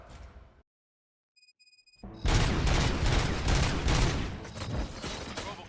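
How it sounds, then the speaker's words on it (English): Brief silence, then a burst of heavy rapid gunfire erupts and continues loudly, dense volleys of shots in a combat scene from the video game RoboCop: Rogue City. "Gunshots? What's going on?"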